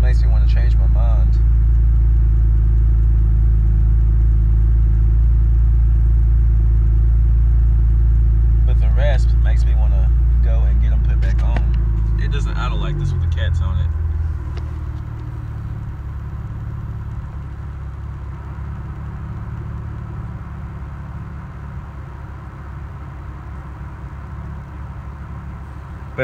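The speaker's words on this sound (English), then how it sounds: "hearing the way it idles makes me want to change my mind." A car engine idles close by with a deep, loud rumble. A few clicks and knocks come partway through, then the engine note drops to a quieter, steady idle for the rest.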